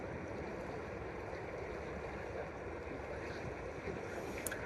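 The Red Deer River flows outdoors, heard as a steady broadband wash of moving water mixed with wind noise, continuous and even throughout with no voices.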